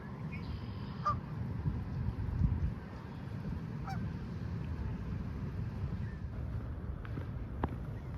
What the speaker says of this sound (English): One of the constants along the trail, the Canada geese.